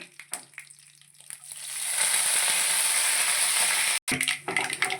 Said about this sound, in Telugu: కొద్దిగా జీలకర్ర వేసానండి, 4 గింజలు మినప్పప్పు తాళింపులు వేసుకుందాం.